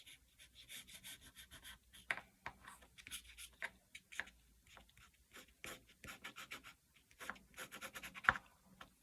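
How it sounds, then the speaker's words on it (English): A wash pencil scratches and rubs across paper in close, quiet strokes, an irregular series of short scraping bursts with brief pauses as the drawing continues. "I've also got a pencil, which is a wash pencil, which is a bit finer."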